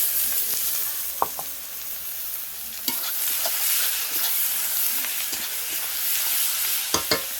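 Ginger garlic paste sizzling in a pan with fried onions, a steady hiss of frying broken by several sharp scraping stirs of the spatula.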